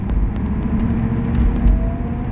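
Cabin rumble of a 1981 Turbo Trans Am with electrical issues on the road, a steady low engine drone and road noise throughout, with faint ticking clicks over the top.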